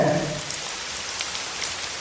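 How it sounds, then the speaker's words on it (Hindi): Steady rain falling, a dense even hiss of drops on surfaces throughout, with no voices. "अब बरसात शुरू हो गई है"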